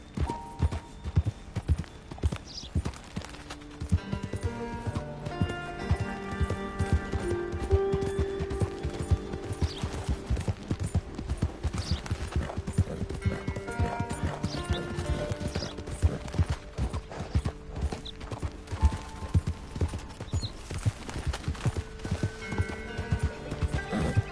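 Horse galloping in Red Dead Redemption 2, hooves pounding in a fast steady rhythm for the whole stretch, close and loud, with tack and gear rattling along and an occasional snort.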